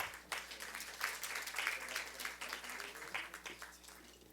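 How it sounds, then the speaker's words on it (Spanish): An audience at a panel forum applauds for the moderator, a moderate patter of clapping with individual claps audible, fairly distant and steady over a room hum. "Fuerte el aplauso para él, por favor."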